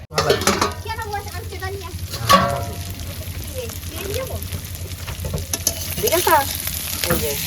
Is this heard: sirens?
no